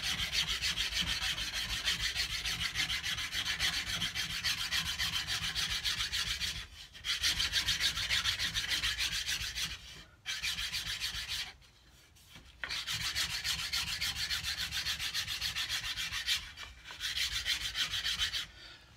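A hand rasp files steadily along a wooden cigar box guitar neck, close and loud, in long continuous scraping strokes broken by a few short pauses as the tool is repositioned.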